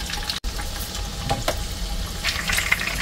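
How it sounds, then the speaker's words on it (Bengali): A salmon steak frying in oil pushed to one side of a wok makes a moderate, continuous sizzle with scattered pops, close by and without voices. "আমি আবার কড়াই কাজ করে মানে তেলটা এক সাইডে নিয়ে এসে মাছটা সুন্দর করে ভাজার চেষ্টা করছি"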